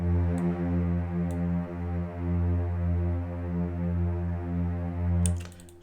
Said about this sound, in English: So let's hear the string by itself.